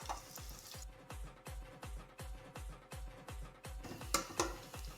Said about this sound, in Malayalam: വെളുത്തുള്ളി ഇഞ്ചി നന്നായിട്ടൊന്ന് മൂത്ത് വരണം കേട്ടോ.